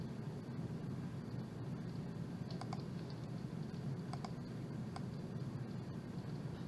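Faint, sparse key presses on a computer keyboard while working in KiCad PCB design software, a few soft clicks in small clusters over a steady background hiss.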